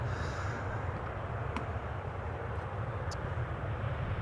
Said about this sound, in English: You just joined at the time we are seeing Embraer after Embraer after Embraer